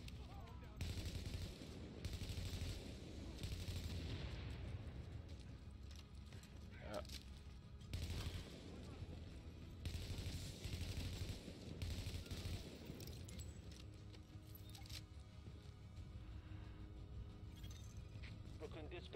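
Gunfire in the video game The Division, set in Brooklyn, crackles in dense repeated bursts throughout, with loud volleys and rapid fire layered over a busy combat mix and occasional voices.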